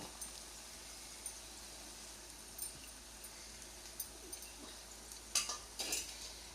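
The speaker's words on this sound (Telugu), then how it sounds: "ఇప్పుడు దాంట్లోకి ఇందాక కోసుకున్న మామిడికాయ ముక్కలు వేసుకుంటున్నానండి" Pieces of raw mango go into a pan of fried onions and get stirred, a steady soft sizzle with scattered spoon scrapes and a couple of sharper clinks near the end, with no talking.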